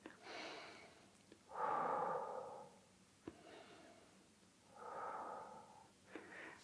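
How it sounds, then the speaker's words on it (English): Slow, deep breaths during a morning hip stretch: close, soft inhales and longer airy exhales alternate, with faint clicks between them and no talking. "taking a few deep breaths."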